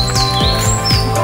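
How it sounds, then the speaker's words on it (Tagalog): Birds chirp and tweet at Paglitaw Spring Resort, a natural pool in Tanay, Rizal, with thin high calls close together over a steady outdoor hum. "Rinig mo yung huni ng mga ibon eh."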